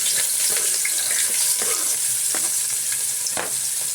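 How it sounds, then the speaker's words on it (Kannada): Finely chopped onions fry in hot oil in a pan with a loud, dense, continuous sizzle, broken by occasional stirring scrapes; no talking. "ಹಾಕ್ಕೊಂಡು ಈರುಳ್ಳಿನ ಒಂದು ಚೆನ್ನಾಗಿ ಫ್ರೈ ಮಾಡ್ಕೊಳ್ಳೋಣ"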